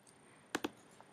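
Two sharp, close computer mouse clicks in quick succession, with a fainter click shortly after, in a quiet room with no talking.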